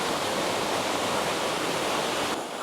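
The Twin Falls waterfall roars as a dense, constant broadband rush of falling water, loud and steady throughout, with no voices and a slight drop in level just before the end.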